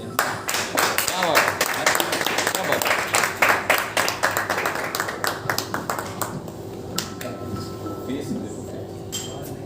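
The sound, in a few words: audience applause at a Hindi movie trailer launch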